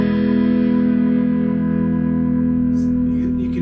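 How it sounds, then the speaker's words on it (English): Electric guitar played through an amp with the neck pickup in parallel mode, giving a sustained distorted chord that rings loud and steady, then decays slightly. "you can hear there's more distortion taking place because I'm pushing the amp harder with a higher level of signal, but the sound is a bit darker"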